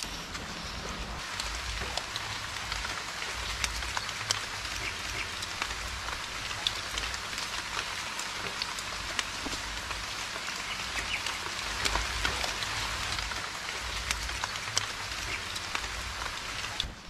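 Rain pours down in a jungle on a remote island, a dense, steady hiss of drops striking foliage with scattered sharper patters, continuous and close for the whole stretch with no talking.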